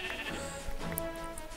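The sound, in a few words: sheep bleating in Minecraft video game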